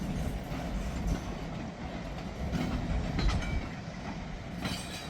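A vintage freight train rolls past a road crossing, a loud rumbling roar with rhythmic wheel clatter and some higher metallic squeal, heard from a parked car.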